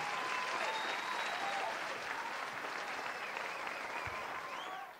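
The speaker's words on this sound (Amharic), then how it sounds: "አጨብጭቡላቸው" An audience claps at an awards ceremony honouring artists, a dense, steady round of applause that holds loud for about five seconds before tapering at the end, with no talk over it.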